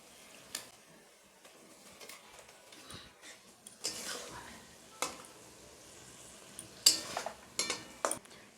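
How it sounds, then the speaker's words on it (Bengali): Salted hilsa fish pieces are placed into spiced yogurt masala in a pan, soft wet squishes and faint metallic clinks and scrapes spaced irregularly, quiet and close. "মাছগুলো আমি ওই মশলার মধ্যে দিয়ে দিচ্ছি।"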